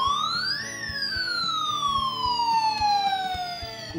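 A retro transforming toy robot, more than twenty years old, gives off a loud electronic siren wail. The pitch sweeps up and then slowly glides down over a steady mechanical pulsing, with no talking.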